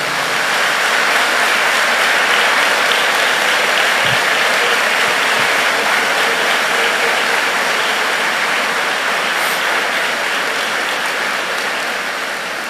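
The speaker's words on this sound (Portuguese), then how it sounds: "Levante as vossas mãos e aplaude bem forte o Senhor aqui." A church congregation at a camp gathering claps loudly and continuously, a dense sustained wash of applause filling the whole stretch and easing slightly at the end.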